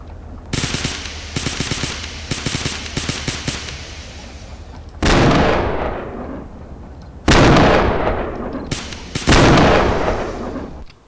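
Tank guns firing in a Garry's Mod ACF video game, rapid machine-gun bursts followed by three loud cannon blasts with booming decays.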